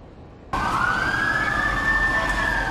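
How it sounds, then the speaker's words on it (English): Emergency vehicle sirens start abruptly at night and hold loud and continuous, with a rising wail over heavy low rumble and traffic noise. "Sirens pierce the night."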